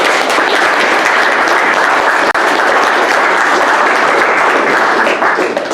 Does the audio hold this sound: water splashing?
no